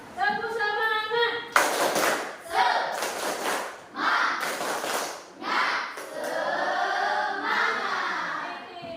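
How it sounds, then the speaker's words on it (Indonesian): A classroom of students performs a rhythmic clapping cheer during a lesson, bursts of claps and shouted chant in repeating patterns, with a teacher's voice at the start. "Nah, kita tepuk semangat terlebih dahulu ya."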